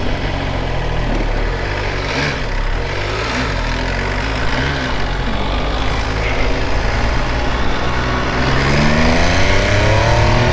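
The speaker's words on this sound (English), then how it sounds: "let's ride the 2023 MV Agusta Superveloce." Loud, continuous engine and wind roar from a 2023 MV Agusta Superveloce 800 motorcycle being ridden, a steady drone with rising pitch toward the end as it accelerates; no talking.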